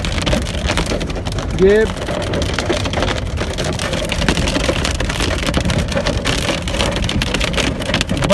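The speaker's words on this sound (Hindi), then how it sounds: "ये ओले पड़ रहे हैं जी, बर्फ पड़ रही है" Hail falls in Sheikhupura as a dense, steady clatter of countless small ice pellets striking surfaces nearby, continuous and loud throughout, with a brief spoken word early on.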